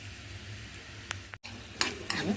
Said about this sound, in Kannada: ಇದನ್ನೇನದು ಎಣ್ಣೆಗೆ ಹಾಕಿ ಸ್ವಲ್ಪ ಕೆಂಪಾಗೋವರೆಗೂ ಹುರ್ಕೋಣ